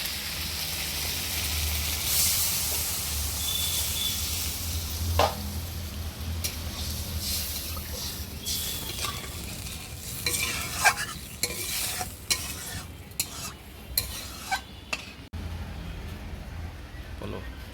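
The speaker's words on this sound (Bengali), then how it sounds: "কষানো হয়েছে। এবার জল ঢেলে দিই," Water goes into a sizzling crab masala cooking in a village-style kitchen, bringing a steady hiss and bubbling followed by repeated scraping and stirring clacks of a spoon in the pan, with a voice talking intermittently.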